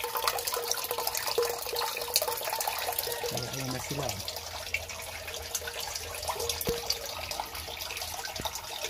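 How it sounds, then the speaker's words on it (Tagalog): Water drains from a red tilapia fish tank, making a steady broadband rush and gurgle that continues throughout, with a few faint knocks and a brief murmur of speech. "Mabilis naman bumaba ang tubig niyan."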